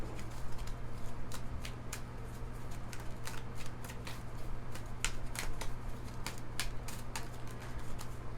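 An Energy Oracle deck of cards being shuffled by hand, rapid crisp riffling and flicking snaps in quick uneven bursts, close and clear without talk.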